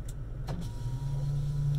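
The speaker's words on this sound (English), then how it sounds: "Power rear window" Power rear window of a 2020 Toyota Tacoma TRD Pro sliding, a steady electric motor whir running throughout at close range inside the cab, with a brief click near the start.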